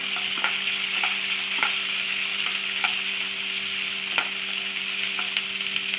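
Green chillies and about 100 g of small onions fry in oil for a mutton gravy, giving a steady close sizzle broken by several soft clacks of a spoon stirring the pan, with no talk.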